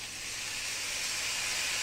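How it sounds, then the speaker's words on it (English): Ground beef browns in a hot pan for chili mac, giving off a continuous, even sizzle that stays close and fairly loud throughout. "When you're going to brown something, that sizzle is kind of what you want to hear"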